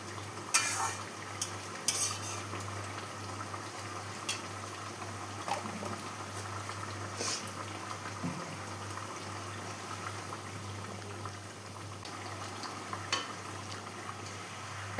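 Pieces of chital fish belly sizzle in oil in a pan while being stirred, giving a steady close fry with occasional sharp scraping clicks from the spoon.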